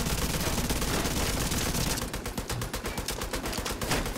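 Rapid automatic gunfire in The Division 2 video game, a stronghold firefight at the Manning National Zoo: a dense continuous roar of shots, then sharp, distinct bursts of rapid-fire rounds, loud and close, with no talk over it.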